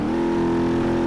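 A damaged car engine in the BeamNG driving game drones steadily with a loud, buzzing hum that stays even throughout.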